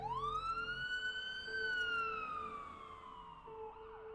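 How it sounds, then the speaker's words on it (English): A police siren sound effect makes one long wail that rises, holds and slowly falls, quiet and steady over a low hum. "I hear sirens in the background."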